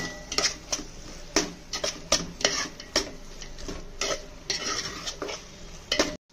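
Coriander and mint are stirred into a gongura prawn mixture in a pot for biryani, a run of rhythmic metal scrapes and clanks over a faint sizzle, close and steady.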